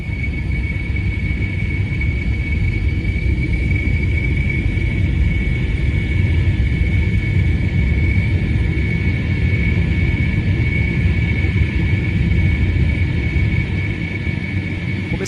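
A passenger airplane takes off from Korea bound for Vladivostok, heard from inside the cabin as a loud, constant engine roar with a thin whine riding steadily on top.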